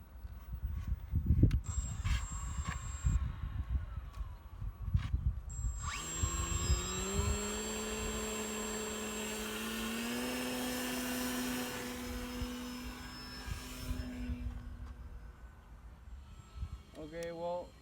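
An FPV RC wing plane, the DGA-6 V2, is hand-launched on its maiden flight, its electric motor climbing to a steady whining drone that shifts in pitch and fades after some earlier voices and handling noise.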